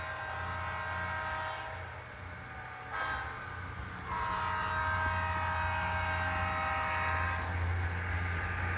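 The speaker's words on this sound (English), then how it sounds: "Here train 99 is on the move" A Santa Fe train rumbles steadily past at speed with a continuous low roar, its horn sounding in long sustained blasts that swell partway through.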